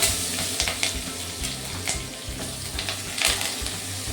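Garlic and curry leaves fry in a hot pan, giving a steady loud sizzle with stirring scrapes and a few sharper bursts throughout.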